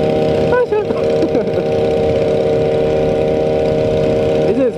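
A motorcycle with orange paint runs steadily nearby, its engine a continuous mid-pitched drone with a few rising revs, while people talk over it.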